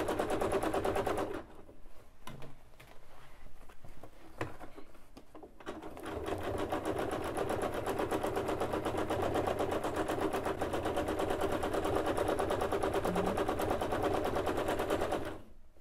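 Sewing machine doing free-motion stitching on blue jeans, a pants leg embellished with zigzag and twirl stitches around a flower; a loud, steady rapid needle chatter runs almost continuously, with brief stop-start pauses near the beginning.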